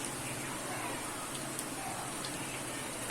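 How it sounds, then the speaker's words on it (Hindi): Onion and cumin seeds sizzling in hot oil in a frying pan, a steady soft hiss and crackle, close and continuous with no talk. "अब मैं इसको दोबारा से थोड़ा सा फ्राई करूंगी और इसी वक्त मैं अब अपना ज़ीरा डालूंगी"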